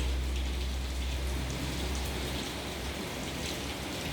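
Heavy rain falls steadily over Istanbul, a dense, unbroken hiss of drops pattering on surfaces with a low rumble underneath, constant and close throughout with no voices.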